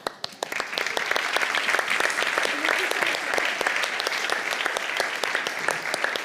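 Audience applause for the winners of the four 2021 Ecovisionnaire prizes at an awards ceremony, steady dense clapping with sharp individual claps standing out, moderately loud throughout.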